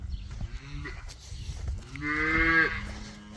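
Cattle on a farm, including a black cow, lowing in a field: two or three drawn-out moos at moderate distance, the last one louder and longer, over faint outdoor background noise.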